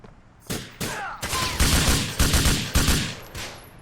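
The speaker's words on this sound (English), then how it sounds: "He's down there shooting me through the fucking floor, dude." Gunfire in Grand Theft Auto 4, a series of loud, close bursts of shots in quick succession, with short gaps between volleys and no talking.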